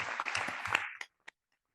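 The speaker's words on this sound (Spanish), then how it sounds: "Un fuerte aplauso, vamos." Short burst of audience applause at an institutional inauguration ceremony, dense clapping for under a second that quickly cuts off, followed by a couple of isolated claps.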